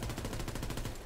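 Rapid automatic PPSh submachine gun fire in Call of Duty WWII multiplayer, a steady close burst of evenly spaced shots lasting about a second with no talk.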